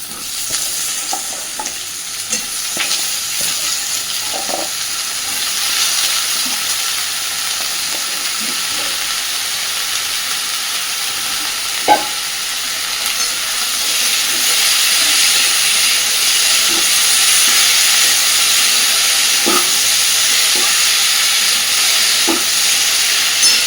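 Long thin strips of pumpkin fry in a pan with onion and garlic, giving a steady, moderately loud hissing sizzle that grows slightly fuller midway, with occasional faint utensil taps and no speech.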